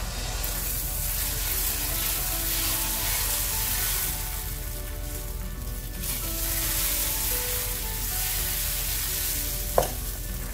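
Dosa batter sizzling steadily on a hot, thick dosa pan, a loud continuous hiss with faint scraping, and a brief sharp clink near the end.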